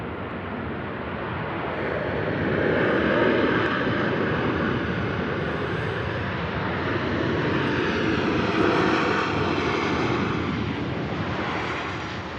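An Icelandair Boeing 757 lands at Manchester Airport with a continuous broad jet roar. The sound swells and holds steady for over ten seconds, then begins to fade slightly, with no talk over it.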